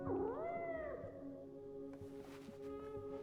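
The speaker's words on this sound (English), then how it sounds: "Cat?" A cat in Life Is Strange: Double Exposure gives one long rising-and-falling meow, close and clear, over a low steady game ambience that continues after the cry fades.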